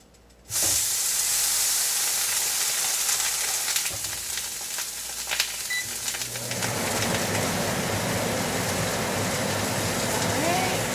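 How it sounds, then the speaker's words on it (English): Sous vide steaks searing in a very hot pan give a loud, steady sizzle and hiss that starts suddenly and carries on without a break, with a brief scrape partway through. "I'm just gonna sear them for 30 seconds to a minute per side just to get a crust."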